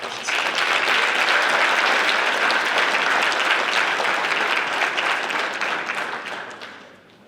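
Sustained applause from an audience at a high school basketball awards ceremony, a dense wash of many hands clapping close and loud, holding steady before tapering off at the end.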